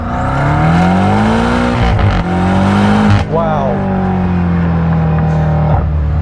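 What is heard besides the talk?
BMW M5 sports car accelerating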